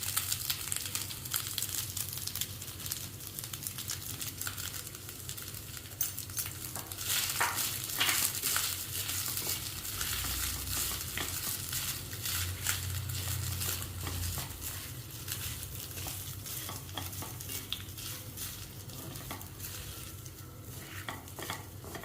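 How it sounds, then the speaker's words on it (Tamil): Cooked rice with turmeric powder and salt is sautéed in a pan for mango tamarind rice, with a steady stream of scraping and stirring over a soft sizzle, plus occasional spoon clicks against the pan. "தேவைக்கேற்ப உப்பும் போட்டு நல்லா வதக்கிக்கிறோம் சாதத்தை"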